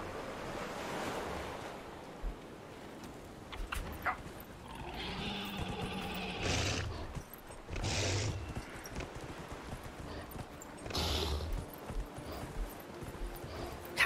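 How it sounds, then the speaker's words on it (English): A mount's hooves clip-clop at a steady trot in the Dragon Age Inquisition video game, set over a wash of wind and surf-like ambience, with a few louder bursts of in-game sound. "we're getting on our fucking horse for this"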